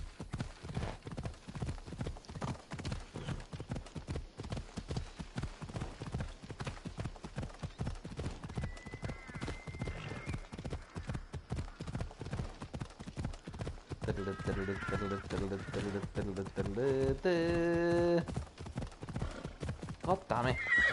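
Rhythmic clip-clop of horse hooves with repeated whinnies and game sound effects in Assassin's Creed Odyssey, while someone talks over it throughout.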